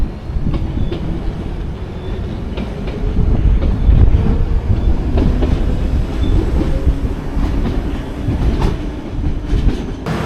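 A London Underground Piccadilly line train rumbles past on the rails near Heathrow Terminal 5, loud and close, with steady clattering and a few sharp clicks from the wheels.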